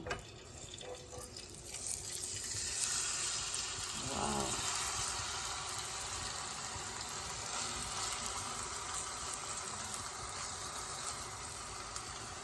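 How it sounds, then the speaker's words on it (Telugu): Chanduva fish sizzles in a pan over medium flame, a steady close hiss that starts softly and swells after the fish goes in, with faint voice-like sounds beneath. "ఫిష్ని ఈ విధంగా పట్టుకొని మెల్లగా తీసి ప్యాన్లో వేయాలి"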